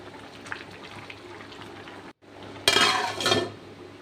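Rice pulao mixture stirred in a cooking pan, soft scraping at first, then a louder burst of utensil scraping and grainy shuffling against the pan near the end.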